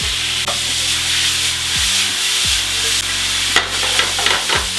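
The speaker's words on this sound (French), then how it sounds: "La poêle est chaude, la viande dans la poêle." Steak sizzles loudly and steadily in a hot pan, a dense continuous frying hiss with a steady low hum beneath and a few soft scraping touches near the end, no voices.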